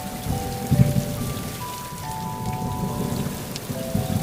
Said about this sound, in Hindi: अभी वह कुछ ही दूर गई थी कि तेज बारिश होने लगी और बिजली जोर जोर से कड़कने लगी।